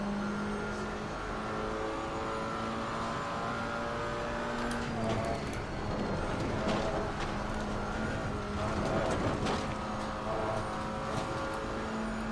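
A McLaren 570S GT4 race car engine drones in Assetto Corsa Competizione, a steady mid-pitched hum with rising rev sweeps and occasional shifts, held at a moderate level throughout.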